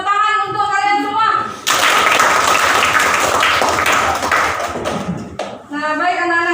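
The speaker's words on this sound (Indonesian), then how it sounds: "Tepuk tangan untuk kalian semua." Classroom students burst into brisk group applause, a dense clapping burst of a few seconds framed by a teacher's voice speaking before and after.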